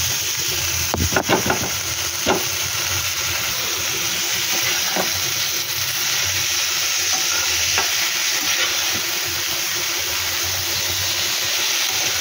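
Leafy greens stir-fried in a hot pan sizzle steadily, with a constant hiss and a few sharp scrapes and clatters of the spatula early on.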